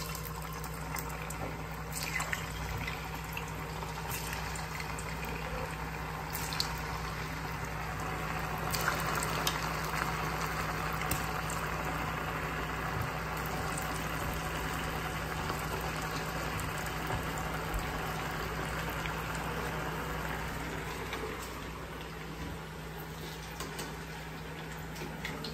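Potato nuggets frying in a pan of hot oil, giving a steady, even sizzle and crackle that holds at one level throughout with no talking.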